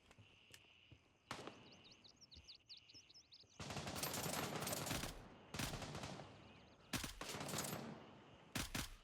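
Short controlled bursts of rifle fire in the shooter game Gray Zone Warfare, loud rapid cracks in several separate volleys with quiet gaps between, while birds chirp faintly in the background.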